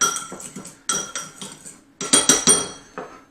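A spoon clinks and scrapes rhythmically against a bowl while BBQ sauce ingredients with black pepper are mixed, sharp close taps in quick bursts with short pauses, no talking.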